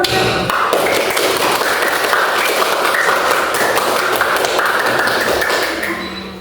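Students in a classroom give a classmate a round of applause: a steady, dense patter of clapping hands that holds and then tapers off at the end.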